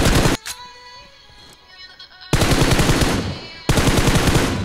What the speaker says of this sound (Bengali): তো এখানে এসে এভাবে করে ফায়ার দিবে।